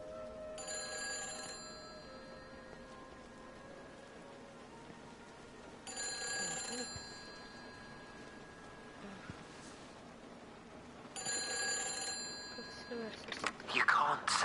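In a video game, an old telephone bell rings in three separate bursts spaced several seconds apart, fairly faint over a steady low background hum, with a brief clatter at the end.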